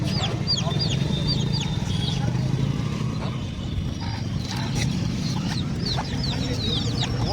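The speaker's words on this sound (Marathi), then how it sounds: "कोंबडा बी तसा आहे मोठा, 4-5 किलोचा कोंबडा" Roosters crow and chickens cluck repeatedly at a busy chicken market in Ahmadpur, India, where large 4–5 kg fighter roosters such as Aseel are sold, the calls rising over steady crowd chatter and people talking.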